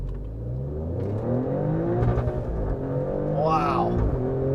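Alfa Romeo Stelvio Quadrifoglio SUV with a 2.9 liter Ferrari-powered engine launching hard, its engine rising in pitch through the gears as it accelerates, loud and close from inside with people talking over it.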